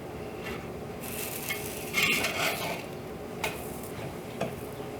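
Sourdough English muffins dusted with cornmeal cook in a hot pan, giving a soft steady sizzle with occasional light scrapes and taps as they are handled.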